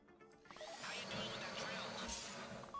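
A drill grinds and whirs during a heist in GTA Online, a harsh, continuous mechanical buzz with rattling texture that builds after a quiet start and holds steady, fairly close, with game noise mixed in.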